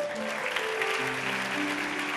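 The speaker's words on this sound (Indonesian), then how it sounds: "Kasih tepuk tangan tuh Tuhan." Applause from a church congregation during a Christmas sermon, a steady wash of clapping with a sustained musical tone underneath.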